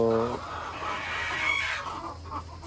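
Hens cluck softly in a poultry coop, a brief low call at the start followed by scattered clucking over steady background noise.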